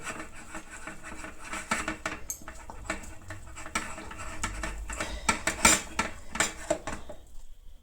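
Batter for chhanch bora being beaten by hand in a bowl, giving a dense run of quick clattering taps and scrapes against the vessel at moderate, close range, with no talking.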